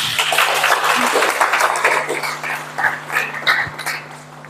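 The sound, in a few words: applause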